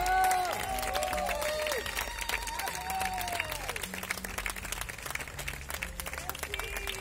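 An audience at a fashion week show applauds for a designer, brisk crowd clapping throughout with a few cheers, heard under music and some talk.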